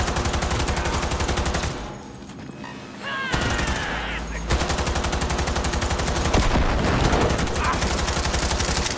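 Light machine gun bursts from a first-person shooter game, Cyberpunk 2077, rattle loud and dense through most of the stretch, briefly dropping away before resuming with continuous rapid fire.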